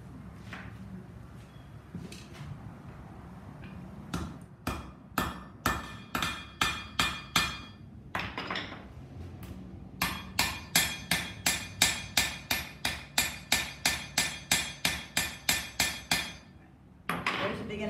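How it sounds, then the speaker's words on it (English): A rounding hammer strikes hot iron in rapid, rhythmic series of sharp ringing blows, with short pauses between runs, close and clear. "I think it will be a little bit more efficient if I use a rounding hammer."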